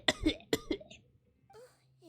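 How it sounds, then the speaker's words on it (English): A video game character fakes two sharp coughs in quick succession, close and clear, followed by brief quiet vocal sounds. "Just the fake cough, like."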